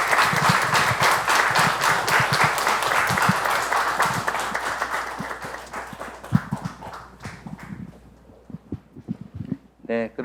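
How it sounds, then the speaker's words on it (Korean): Church congregation at a Sunday service claps to welcome visiting guests, a dense round of applause that gradually thins into scattered individual claps and fades near the end. "우리 박수로 환영해 주시면서"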